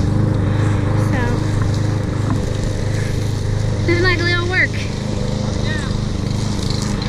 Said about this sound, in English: Now we need gas for the lawnmower.